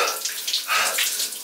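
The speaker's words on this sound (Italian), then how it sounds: "ho provato per la prima volta la doccia fredda" Cold shower water running, streaming and splashing close by in a steady, fairly loud hiss with small fluctuations as the spray shifts.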